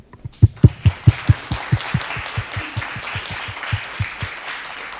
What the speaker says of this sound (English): Let's give this group of students a short, brief round of applause